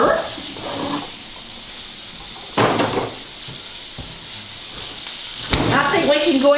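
French toast fries in a pan with a soft, steady sizzle broken by a few clattering knocks and a sharper burst near the end, while a voice speaks intermittently over it.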